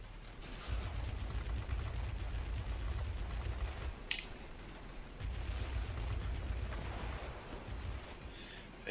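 Rear gun of a Chance-Vought F7U Cutlass firing in World of Warplanes, two long rattling bursts of rapid machine-gun fire over a steady engine drone, with a brief sharp crack between them.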